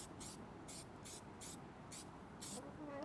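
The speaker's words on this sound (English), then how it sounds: "Just lightly mist it on the area" Black trim shine sprayed onto a car's grille trim comes as a series of short, crisp mist bursts in a fairly even rhythm, close and fairly quiet against a low background hiss.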